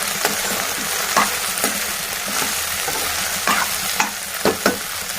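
Thinly sliced red chillies stirred into frying okra in a pan, a loud continuous sizzle broken by several sharp scraping strokes of the spoon, with no voices.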